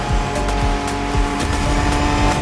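A Ford Bronco in The Crew Motorfest drives near Oahu's beaches, its engine a continuous loud drone with tonal harmonics and repeated surging revs and shifts.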